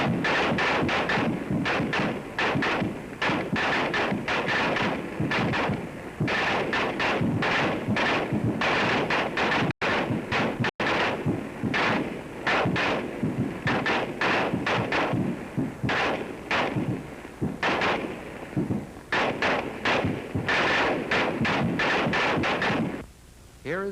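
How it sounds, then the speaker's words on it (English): M1 and Springfield rifle rounds crack sharply overhead in rapid, dense bursts, with the reports of discharge rolling in from a distance, a loud near-continuous volley of shots that stops abruptly at the end. "Listen for the crack of the bullets passing overhead and for the reports of discharge."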